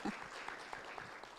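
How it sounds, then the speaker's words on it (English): An audience claps for a speaker at a launch event for a business growth program for manufacturing SMEs in Kenya, scattered but steady hand clapping at fairly low volume and slightly distant. "A bigger hand clap for Shiro."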